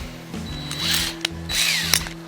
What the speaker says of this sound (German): Dann tun wir mit dem Spezialgewindbohrer da.